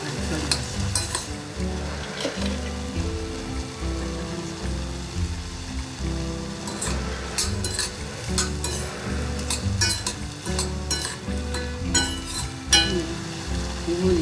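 Peanuts stir-fried in a reducing soy sauce glaze with sugar in a home Korean kitchen, a steady close sizzle with repeated scraping stirs and occasional utensil clinks against the pan, running continuously without talk.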